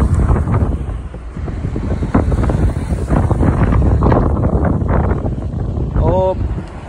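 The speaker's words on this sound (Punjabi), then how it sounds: "ਹਵਾ ਬਹੁਤ ਤੇਜ਼ ਵਗਦੀ ਇੱਥੇ" Strong, cold wind gusting at the Atal Tunnel in sub-zero mountain air, a steady loud roar of buffeting against the microphone that runs the whole time, with a brief whistling tone near the end.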